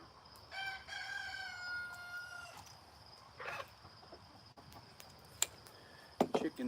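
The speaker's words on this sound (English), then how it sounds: "Chickens over here messing around." On a farm, a rooster crows one long, drawn-out call up close, followed by scattered clucks and short squawks from chickens nearby, with a few sharp knocks and rustles toward the end.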